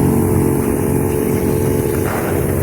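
An engine-powered grass cutter runs steadily at close range, snagging on plastic trash among the grass. Its loud, continuous droning buzz holds throughout with a slight rise near the end.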